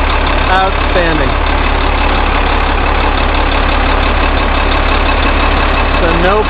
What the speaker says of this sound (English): once it warms up, it's a pretty clean running diesel